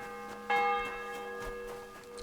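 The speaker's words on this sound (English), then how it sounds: "The bell's ringing for Hans the 5th time." A church bell tolls in Kingdom Come: Deliverance II, a single clear metallic strike with ringing harmonics that decay slowly over about two seconds, moderately loud with no voices.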